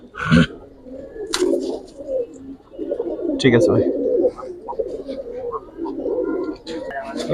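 Home-kept pigeons coo in low, throaty rolling phrases close by, with a few sharper calls mixed in, while someone speaks briefly over them.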